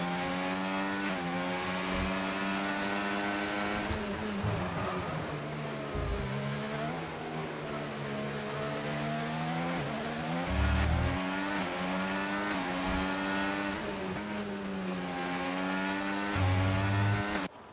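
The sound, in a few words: racing car engines from a video game, PSS World Cars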